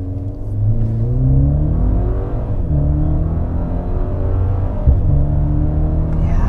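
A Maserati Ghibli Hybrid four-cylinder accelerates hard, its engine note climbing through the gears with a loud, close, continuous rumble and whir and no talking.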